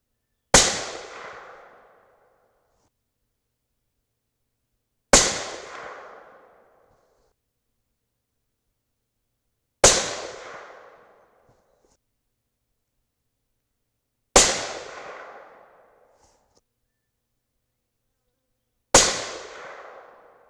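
A suppressed 6.5 Creedmoor rifle firing 142gr Sierra Match King handloads with H4350 and IMR4451 powder: five sharp, loud reports spaced about five seconds apart, each fading in a brief ringing tail before silence.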